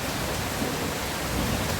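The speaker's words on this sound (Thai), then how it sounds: "น้องฝนตกลงมา เห็นไหม" Steady rain pouring down, a dense, even hiss of drops that stays constant and fairly loud throughout, with no voices.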